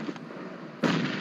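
A grenade goes off in the PUBG Mobile battle game: one sudden broad blast that jumps in loudness and holds as a rough roar after a steady noisy background, close and loud, with no talk.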